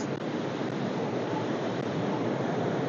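Kitwad (Kippada) waterfall rushing with a dense, steady roar of falling water, loud and continuous throughout with no voices over it.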